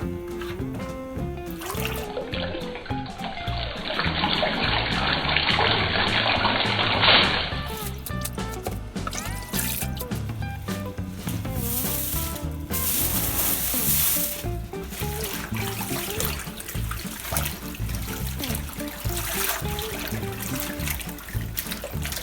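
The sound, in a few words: washing and draining collard greens in water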